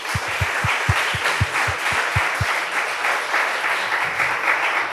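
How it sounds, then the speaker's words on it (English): Audience applause fills a demo day event hall, a dense steady wash of many hands clapping throughout, with a few low thumps early on. "I would like to invite you to give a round of applause while we invite our jury on stage."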